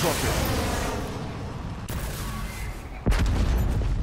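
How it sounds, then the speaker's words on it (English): A Hellstorm missile launches in a Call of Duty Kill Confirmed Domination match: a dense, loud roar of blasts and rumbling gunfire, cut by a sharp, heavy boom near the end. A voice talks faintly underneath. "Hellstorm launch authorization"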